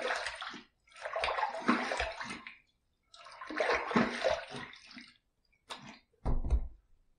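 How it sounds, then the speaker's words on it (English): Water splashes and sloshes in bursts as a face is rinsed after a wet shave, with short pauses between handfuls and a final quick splash. "Let's rinse."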